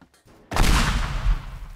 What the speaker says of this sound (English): I thought it would be a bigger explosion.